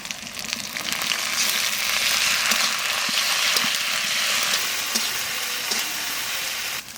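Onions, ginger-garlic paste and spices, with cumin, coriander and green chilli pastes, fry steadily in a pan for an egg curry, a dense continuous sizzle that holds at a fairly loud, even level throughout with faint stirring scrapes and no talk.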